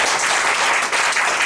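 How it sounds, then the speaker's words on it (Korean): An audience of professors claps to welcome a lecturer at a university teaching session, giving a dense, loud burst of applause that holds steady throughout. "박수로 환영하도록 하겠습니다"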